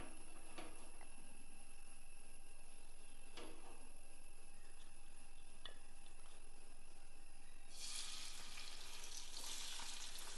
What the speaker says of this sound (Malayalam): കടുക് പൊട്ടിക്കഴിഞ്ഞാൽ ഇത് അതിലേക്ക് ഇട്ട് കൊടുക്കുക